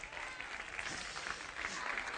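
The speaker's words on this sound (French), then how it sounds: "vous pouvez les applaudir tous les deux très très fort" A children's audience at a stage magic show claps for two young helpers, a fairly faint but continuous crowd applause with a murmur of voices mixed in.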